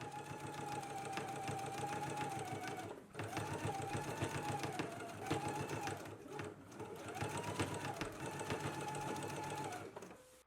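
A sewing machine stitches a 5/8-inch seam in a garment: a steady, close, continuous whirring hum that runs in three long passes with brief pauses between them.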